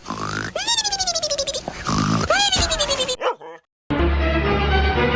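A cartoon dog barks in a fast, loud series of yaps and grunting woofs, bursting over a music bed before a brief silence and then a sustained noisy rumble.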